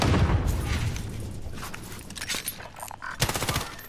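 Rapid automatic gunfire in a first-person shooter match, dense sustained rattling with a few heavier booming shots toward the end, loud and close.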